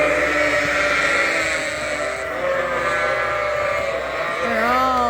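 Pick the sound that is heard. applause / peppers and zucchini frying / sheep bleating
sheep bleating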